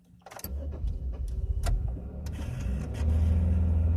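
A 2000 Impala car engine with a hard-start fault cranks with sharp clicks, then catches and runs at a low uneven idle that swells in the final second, heard close with no talk.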